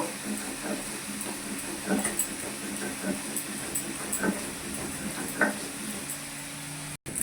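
Ridge gourd fries in a pan, sizzling steadily up close, with occasional stirring scrapes and crackles over a constant frying hiss.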